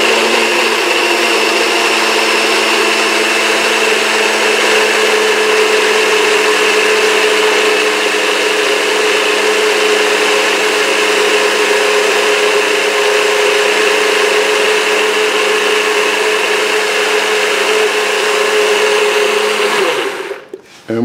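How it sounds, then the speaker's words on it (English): A bullet-style personal blender whirs continuously, blending crepe batter in a loud, steady, close motor drone that holds unchanged for about twenty seconds before cutting off. "I'm using a bullet opposed to any other machine"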